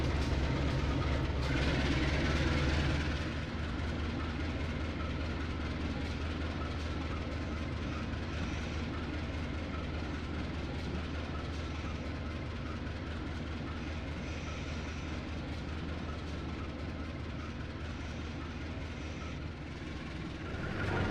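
A CC203 diesel locomotive in the Trainz railway simulator runs steadily, its engine drone and rail rumble continuous and close throughout, with faint clickety-clack of the wheels over the track.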